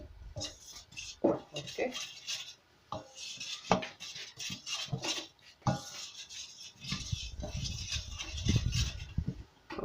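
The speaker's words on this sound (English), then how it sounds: "So you stir it together" A utensil stirs a homemade soap mixture in a pot, clinking and scraping in uneven bursts with metallic knocks, while a person speaks briefly over the stirring.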